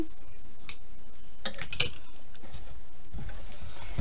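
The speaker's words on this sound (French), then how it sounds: "Le ruban, je vais peut-être le couper un tout petit peu" Scissors snip through a ribbon on a handmade album: a few brief, sharp metallic clicks spaced apart over quiet room background, with no talking.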